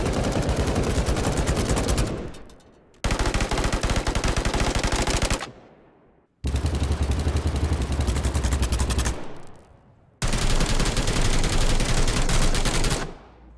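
Automatic weapons fire in the video game BattleBit Remastered in four long, loud, rapid bursts, each rattling on for two to three seconds and separated by short gaps, with one burst carrying a heavier low-end boom.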